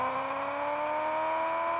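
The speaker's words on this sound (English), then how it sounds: "compare the new sound of the turbos" A Ford Mustang Shelby with its stock engine in the Car Parking Multiplayer video game gives a steady, rising turbo whine over continuous engine drone, loud and unbroken with no talk.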